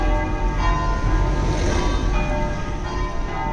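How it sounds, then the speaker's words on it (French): Church bells ring loudly and continuously in the city of Metz, a dense, sustained peal of overlapping strikes filling the air outdoors near the post office. "J'espère que vous m'entendez encore bien, vous n'entendez pas trop les cloches."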